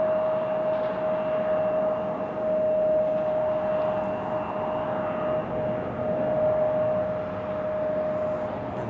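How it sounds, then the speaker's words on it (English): A Southwest Airlines Boeing 737 MAX 8 jet airliner sits at Raleigh Durham International, giving a steady moderate engine hum with a sustained high whine tone running through it, no talking. "There's our 737 MAX 8 about to make its way to Baltimore, Southwest Airlines."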